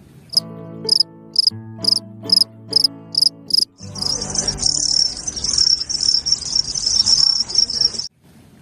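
A toy cricket chirps in a series of sharp, regular pulses, then breaks into a continuous high trill that runs for several seconds before stopping, with tonal humming sounds during the opening pulses.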